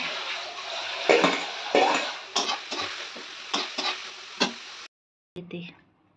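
Prawns and coriander leaves go into a hot pan, giving a steady sizzle with several scraping stirs, then the sizzle cuts off and a faint clatter follows.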